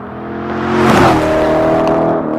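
A car's engine revs up hard through a Borla exhaust at a track, the note climbing to a peak and holding a steady loud drone before easing slightly.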